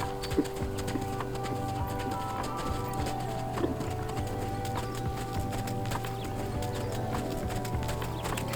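Horse hooves clip-clopping in a steady rhythm as a ridden horse moves from walk toward canter, close and clear over a faint background hum.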